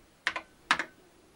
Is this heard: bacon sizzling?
no